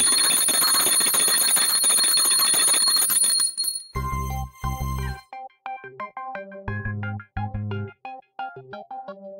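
A small house bell rings in a domestic scene, bright metallic strikes tolling in a quick irregular series close by, after a busy stretch of mixed tones, with no talking.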